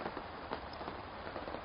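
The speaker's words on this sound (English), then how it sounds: "Can be a stream, can be the rain like I'm doing right now." Rain falls outdoors as a soft, steady patter with scattered louder drops, fairly faint and continuous, with no talking over it.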